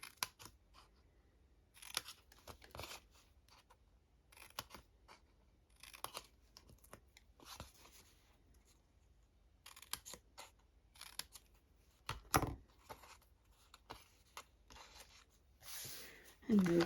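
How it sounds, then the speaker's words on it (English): Scissors snipping through paper up to a score line while making a papercraft lidded box: quiet, close, irregular short cuts in bursts separated by brief pauses. "You're going to come in with your scissors again and go right up"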